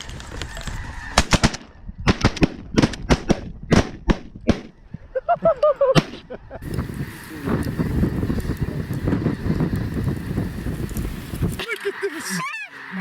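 A snow goose hunt erupts in a rapid volley of loud shotgun blasts, about a dozen sharp reports fired in quick succession, followed by geese honking and a busy, noisy outdoor din.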